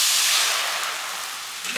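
White wine hitting a hot frying pan over high heat, a brief loud steamy hiss that fades as it reduces.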